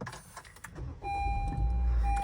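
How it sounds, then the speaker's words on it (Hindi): A 2019 Honda Civic being started: clicks and rustling inside the cabin, then the engine catches and settles into a steady low idle with a thin whine over it. "गाड़ी को हम करते हैं स्टार्ट"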